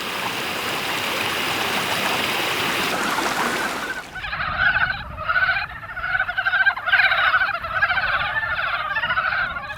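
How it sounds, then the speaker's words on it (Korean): Mountain frogs croak in repeated rhythmic bursts beside a rushing valley stream, the steady water noise giving way to a chorus of close, pulsing calls. "봄의 전령사 산개구리."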